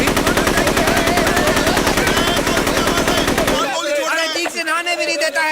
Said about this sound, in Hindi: गोलियां पे गोलियां चलाया जा रहा है